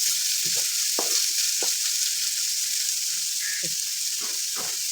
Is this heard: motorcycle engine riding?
no